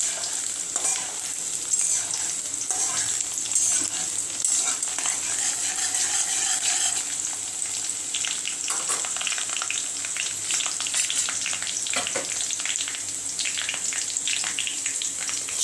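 Chicken wings fry in hot oil with garlic, a steady loud sizzle and crackle running throughout, with occasional stirring scrapes and bursts of spattering.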